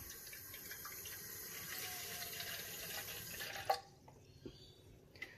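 Liquid resin pours steadily into a measuring cup in a continuous stream for a few seconds, then stops, followed by a couple of faint drips and small clinks.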